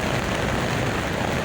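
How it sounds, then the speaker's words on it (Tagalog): Heavy rain pours down in a continuous, even hiss, loud and close, with no pauses or distinct drops standing out. "Grabe, lakas na naman ang ulan."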